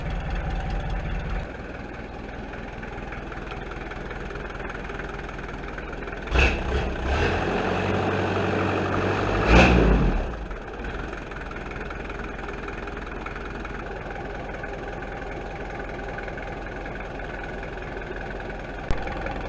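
A diesel Land Cruiser with its exhaust muffler removed idles with a deep, raw rumble, then is revved sharply twice in quick bursts before settling back to a steady idle, loud and close.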